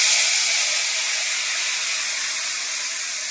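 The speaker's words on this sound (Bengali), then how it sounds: "সর্ষে আর শুকনো লঙ্কা ফোড়ন করছি" Mustard seeds and dried chilies sizzle in hot oil while being tempered for a sour small-fish curry. The hiss is steady and close, easing slightly over a few seconds, with no voices.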